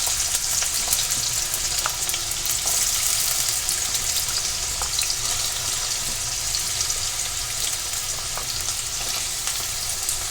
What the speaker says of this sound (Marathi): आता मी बटाटा देखील टाकून घेणार आहे